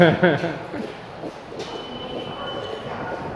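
A train rumbles past in a video game, a broad, steady rolling roar with a faint high squeal, following a short burst of tonal game sounds at the start.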